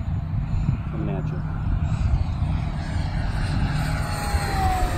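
An Eleven Hobby F8F Bearcat 1100mm 4S electric RC model airplane flies past, its steady motor and propeller drone loud and constant, with a rising whine near the end, under ambient outdoor noise.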